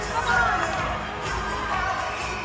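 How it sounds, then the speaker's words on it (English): A crowd at a Firebirds versus GIANTS netball match in Brisbane's Nissan Arena claps and cheers, a dense, continuous roar of applause and shouting filling the arena. "This crowd is on their feet. They are clapping, they are cheering."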